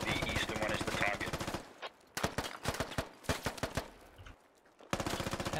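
Rifle fire rattles in the tactical shooter SquadOps, with loud rapid bursts of automatic shots separated by brief pauses, close and harsh.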